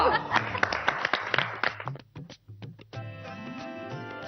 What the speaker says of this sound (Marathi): टाळ्या